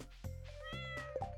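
Cat meowing in the video game Stardew Valley: a couple of drawn-out, tonal meows, clear and close, standing alone over a steady low background hum.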